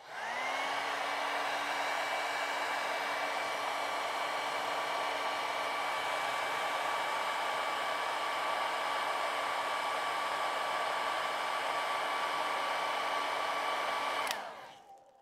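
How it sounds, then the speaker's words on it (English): A hair dryer blows steadily at close range with a constant whining hum, then cuts off abruptly near the end. "let's just not be silly and take the hairdryer to it so it doesn't run"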